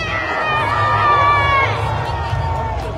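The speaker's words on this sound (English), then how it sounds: "Will you give me a cheer for the Wolves?" A festival crowd at a Viking skirmish cheers and shouts for the Wolves, a loud sustained roar of many voices with children's high shouts mixed in, holding steady for a few seconds.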